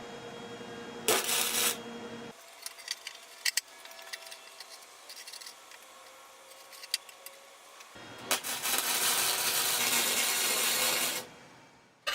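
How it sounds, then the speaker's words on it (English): A hand file rasps down welds on a metal pipe frame for a motorized 125cc tricycle, with two harsh, loud bursts of scraping separated by a quieter stretch of lighter handling noise. "Filing down your welds will make your work look seamless."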